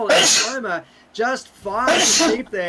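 A commentator sneezes sharply during a Rocket League esports match cast, with a second sneeze-like burst shortly after, and a voice talks in between.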